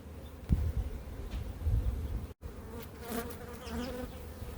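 Honeybees buzzing at an opened hive during queen rearing work, a steady, close, droning hum with louder swells as bees fly near and a brief dropout midway.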